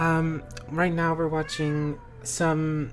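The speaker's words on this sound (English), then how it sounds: "I apologize for my cats." Pet cats meow loudly indoors, giving four drawn-out, tonal calls in quick succession. A person talks at the same time.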